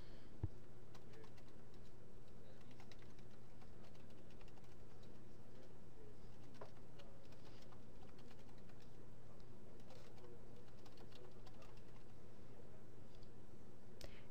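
Quiet, steady clicking of keys on a computer keyboard while entering data into an Excel spreadsheet, soft irregular taps over a faint hum.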